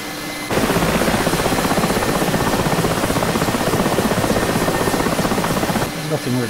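Mil Mi-8 MTV helicopter flying over a target in DCS, its steady loud rotor and turbine drone running continuously for several seconds before easing off near the end.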